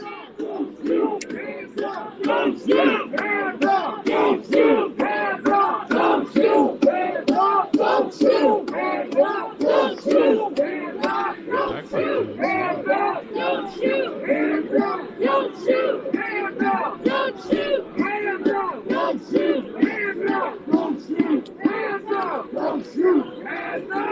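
A large protest crowd outside during a police tear gas standoff in Portland, chanting and shouting in a steady, loud rhythmic cadence that goes on without a break.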